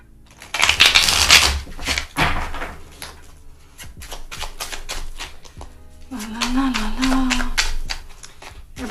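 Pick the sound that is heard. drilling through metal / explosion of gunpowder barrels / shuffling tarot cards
shuffling tarot cards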